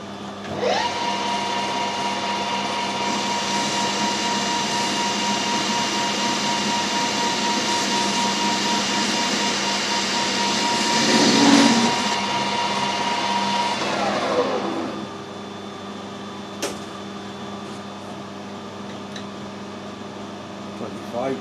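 A half-millimetre cut on a metal lathe, with a steady machine whine and a cutting hiss that runs about fourteen seconds and then winds down. A brief click follows near the end.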